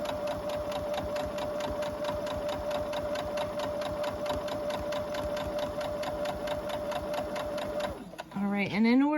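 A sewing machine runs a long continuous straight seam on a quilt block, its needle chattering in an even fast rhythm close by, ending with a brief rustle of fabric.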